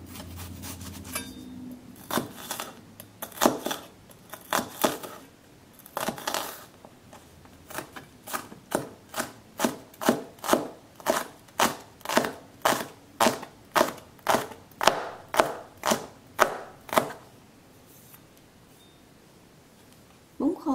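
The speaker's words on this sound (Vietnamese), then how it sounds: "hành tím băm nhỏ." Rapid rhythmic knife mincing of shallots on a board, quick even strokes after a few slower cuts, loud and close, with no one speaking.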